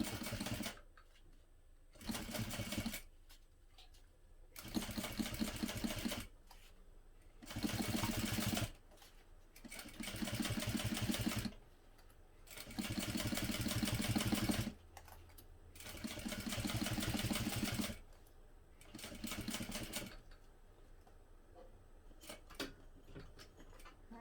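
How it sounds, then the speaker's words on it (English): A home sewing machine stitching down the short edge of a fabric hobo bag with a 1/8 inch seam allowance, running in steady rhythmic bursts separated by brief pauses, close and loud. "First sew down that first short edge."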